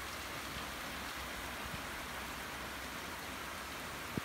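Light rain falling outdoors, a soft, even hiss of drops on surfaces that stays faint and steady throughout, with an isolated drip or tap near the end.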